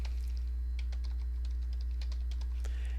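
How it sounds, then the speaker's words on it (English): Keystrokes on a computer keyboard as a web address is typed, a steady run of quick close clicks over a constant low electrical hum, with no talking. "type in the web address."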